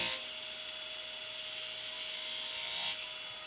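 A wood carving gouge cuts into wood with a steady scraping hiss, swelling in two longer strokes over a faint constant hum, close up and without speech.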